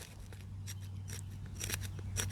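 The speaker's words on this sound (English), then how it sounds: "start scraping, gently scraping this until we get a fine dust" An ESEE 6 knife blade scrapes gently against the grain of wood, working it into fine dust and little shavings. Close, repeated short rasping strokes sound over a steady low hum.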